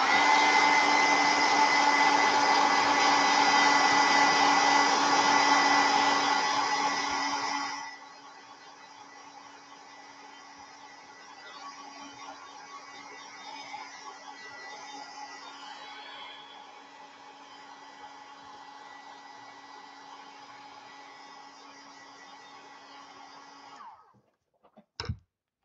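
A hair dryer blows on a wet acrylic painting, a loud steady whir for about eight seconds that then drops to a softer, continuous hum before cutting off near the end.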